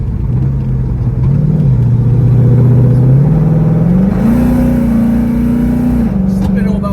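A car with a Ford 6R80 automatic transmission slipping at about 60 mph, its engine droning loud and close as the revs climb in steps toward 4,000 and hold.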